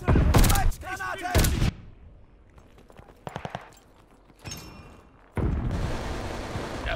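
Grenade blast and gunfire in the Call of Duty Vanguard multiplayer shooter: loud bursts of shots and booms come in separate clusters, then a sustained rumble closes the sequence.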